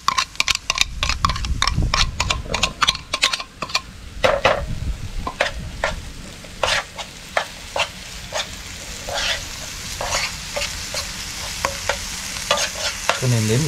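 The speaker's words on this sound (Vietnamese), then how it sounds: "Tỏi, đầu hành với ớt xay ra. Đây luôn. Và chúng ta sẽ phi đều cho thơm." Garlic, shallots and chili are stir-fried in a pan, producing a soft ongoing sizzle punctuated by many sharp, irregular scraping clicks of a utensil against the pan, close and clear.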